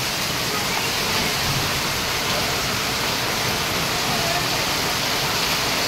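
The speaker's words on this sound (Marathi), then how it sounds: "पाऊस तर एकदम मुसळधार पडतोय" Heavy monsoon rain pours down in Mumbai on a hillside area with waterlogged ground, a loud, steady, unbroken roar of dense rainfall close by for the whole stretch.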